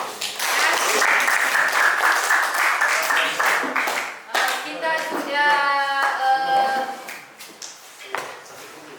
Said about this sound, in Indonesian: Oke, tepuk tangan untuk semua kelompok.